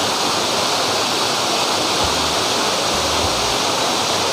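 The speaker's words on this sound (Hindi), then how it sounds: "मैं ये झरना का नीचे हूँ और मंदिर ऊपर में है और ये झरना नीचे बहती है" A waterfall below the Murga Mahadev temple in Odisha roars loud and close, a steady broadband rush of falling water filling the scene.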